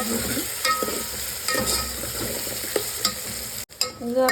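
Tomatoes and onions frying in a pan with stirring, a steady close sizzle broken by scraping strokes of a spoon, with a brief dip near the end before the frying noise resumes.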